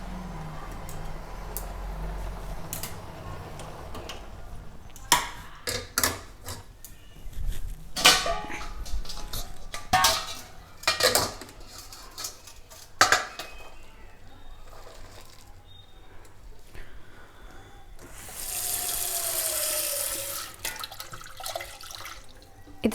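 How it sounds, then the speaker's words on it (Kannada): Boiled hakka noodles drained through a strainer with rattling and clattering of the pot and utensils, then a burst of running cold tap water poured over them near the end, close, with a person talking in between. "ಇವನ್ನ ಸೋಸ್ಕೊಂಡು ಬಿಡೋಣ"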